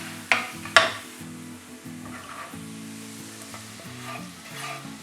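Tempering spices with Kashmiri chili powder sizzle in a hot pan for a yogurt side dish. The frying hiss is steady and close, with a couple of sharp clinks of a spoon early on and no talking.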